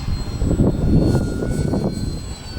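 HobbyKing Arcus F3A RC airplane climbing straight up in flight, a loud, close electric motor whine with a steady buzzing drone that swells and eases slightly.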